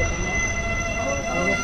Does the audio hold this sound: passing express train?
yes